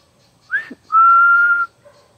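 A short rising whistle followed by a longer, steady sustained whistled note, clear and close in a quiet space.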